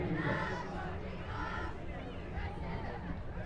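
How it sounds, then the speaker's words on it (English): A high school cheer and dance squad shouts kickoff cheers at a varsity football game between Monte Vista and Oak Ridge on Senior Night, with rhythmic chanted voices over a murmuring stadium crowd at moderate distance. "Stand up for the kickoff cheers from the cheer and dance squad."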